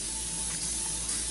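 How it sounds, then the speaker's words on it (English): Butter cooking spray hisses into a pan in one short, steady, close spray. "Now I'm gonna spray a little bit of this butter spray"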